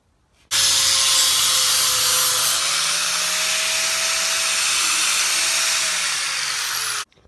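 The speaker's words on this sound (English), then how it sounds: "Now I'm just gonna get the other grinder wheel, clean this up, get a few angle cuts on this" An angle grinder with a grinding wheel cleans up a metal piece for a cart build, a loud, steady, high-pitched whine that runs continuously for about six and a half seconds, then cuts off sharply.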